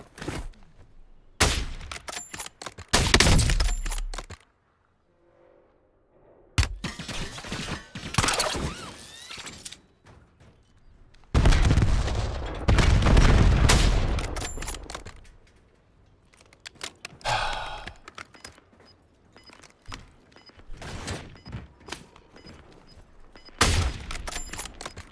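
Bursts of gunfire in the Warzone battle royale game, with separate volleys of rapid shots broken by short quiet gaps, some loud and close, others fainter, alongside thuds and clattering game noises.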